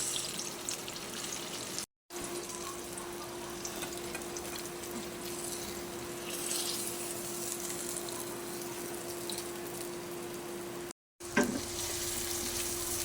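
Garlic and onion sautéing in butter in a pan for a salted egg sauce, a soft continuous sizzle with a faint steady hum and occasional stirring, broken by two short gaps.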